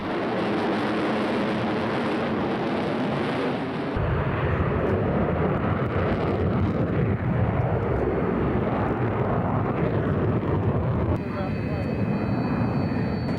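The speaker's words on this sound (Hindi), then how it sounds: "आप भी जरा देखिए सुखोई आखिर क्यों है इतना खास" A Sukhoi Su-30MKI fighter jet flies over an airbase during an Air Force Day rehearsal, a loud steady engine roar that swells abruptly and holds, with voices talking over it.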